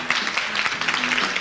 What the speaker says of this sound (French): Applaudissements pour ce monsieur.